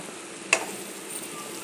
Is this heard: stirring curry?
yes